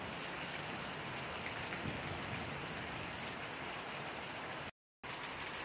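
Steady, heavy rain pours down on surfaces outdoors in a constant hiss, broken by a brief silent gap near the end. No voices.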